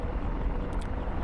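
An AH-64 Apache attack helicopter in the DCS World flight game gives a steady low rotor and engine drone, even and continuous at moderate level with no talk over it.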